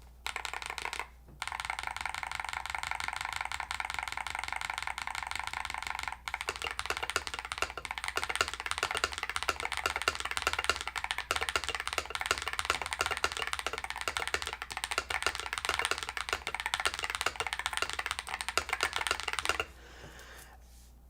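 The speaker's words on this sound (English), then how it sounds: "let's see what this keyboard sounds like" Continuous fast typing on a stock GravaStar V60 Pro aluminum-cased keyboard with plastic diffusers, dense clacky keystrokes running steadily for about twenty seconds with brief pauses, close and alone.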